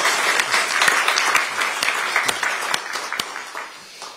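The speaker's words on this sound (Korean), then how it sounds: "여러분 박수 한번 주십시오" Audience applause at the launch ceremony and first meeting of a political party's defense and security committee, loud, dense clapping from a large crowd with a few sharper claps poking through, tapering slightly toward the end.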